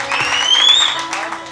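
A church congregation applauding in a brief burst of clapping, with sustained tones and voices mixed in.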